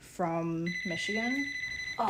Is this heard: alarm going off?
yes